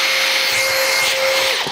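A Makita 40V HP001G cordless drill whirs steadily at close range with a sustained high motor whine throughout, pitch dipping slightly near the end as if loaded or released.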